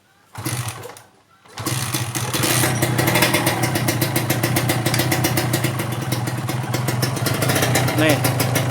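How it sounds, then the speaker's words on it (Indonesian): Kawasaki Ninja RR two-stroke motorcycle fitted with a GSX radiator starts after a brief attempt and settles into a loud, close, steady rapid-firing idle. "jadi motornya udah hidup, radiatornya udah dipasang"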